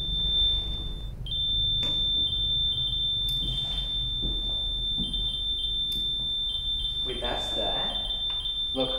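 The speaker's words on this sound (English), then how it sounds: "What's the blue beeping thing? The device." A blue ghost-hunting device emits a high, steady electronic beep that breaks off and restarts several times, heard indoors with people talking over it and some handling noise.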